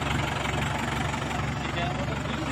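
A 585 DI XP Plus tractor engine idles nearby with a steady, low, rhythmic diesel chug that runs unbroken, while voices talk over it.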